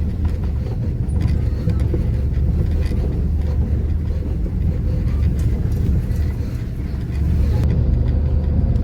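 A loaded truck carrying onions from Nashik drives along a dusty road, its engine a loud, steady low drone from inside the cab.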